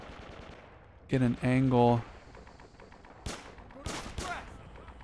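Gunfire from a WW2 first-person shooter game: a few sharp shots around the middle and end, moderately loud, with someone talking before them.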